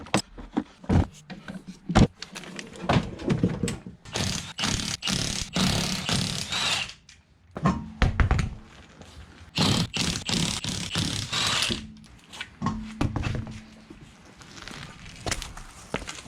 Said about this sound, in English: So we'll go ahead and remove our wheels, which are, you guessed it,